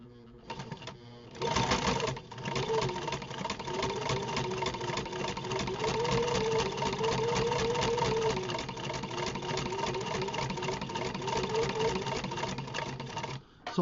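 A sewing machine runs steadily at close range, stitching through four layers of 4 to 5 ounce veg tan leather, with a continuous mechanical hum and rapid needle chatter for the whole stretch.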